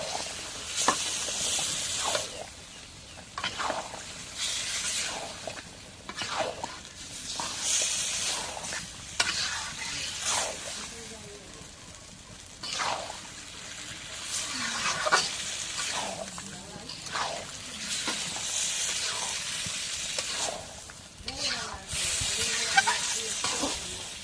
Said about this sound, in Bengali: এখন ডালতে দিই, দিয়ে মাংসটা কষাই নিই।